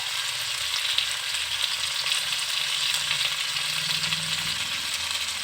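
Koi fish masala frying in a pan with fried vegetables as it is stirred and mixed, a steady, close broadband sizzle running throughout with faint scraping and low stirring knocks underneath.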